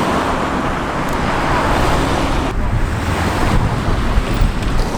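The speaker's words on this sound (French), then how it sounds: "Donc il y a des voitures qui passent à toute berzingue." Cars rush past at high speed on a road beside a temple in Japan, a steady loud roar of traffic with wind buffeting the microphone and no talk.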